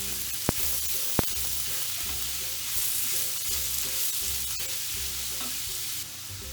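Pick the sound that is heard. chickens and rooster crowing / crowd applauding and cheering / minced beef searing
minced beef searing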